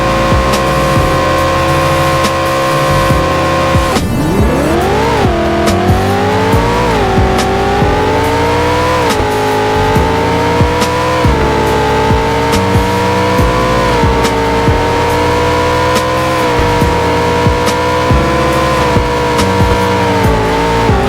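A car in the Car Dealership Tycoon video game accelerates hard on a half-mile run, its engine revving loud and continuous, climbing through gear shifts with steady rising pitch for about twenty seconds, no talking.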